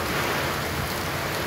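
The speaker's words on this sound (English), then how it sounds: "Check out this rain in the Eastern and Warm Springs area." Rain falls steadily in the Eastern and Warm Springs area of Las Vegas, an even hiss of drops at moderate loudness with no talking and no break in the patter.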